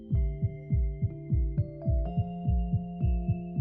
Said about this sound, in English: of course, you know, there's this heartbeat.